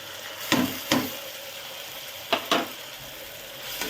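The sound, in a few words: onion, tomato and ground masala frying for egg biryani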